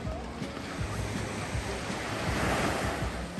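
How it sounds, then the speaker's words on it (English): Ocean waves at a beach on Oahu, Hawaii, a continuous rushing wash of surf with wind buffeting the microphone, building gently toward a louder swell midway, with no voices. "Oahu beaches are not to be missed."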